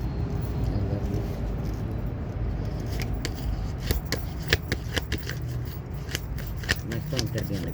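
Tarot cards being shuffled by hand, a run of crisp riffling flicks and slaps that grow busier toward the end, close up over a steady low background hum.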